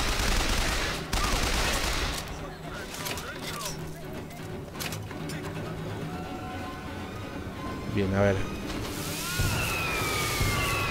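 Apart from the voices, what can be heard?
fireworks in the video game Bioshock Infinite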